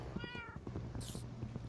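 In Minecraft, a cat gives a short, clear meow near the start, followed by soft rustling and faint game sounds with a brief high hiss.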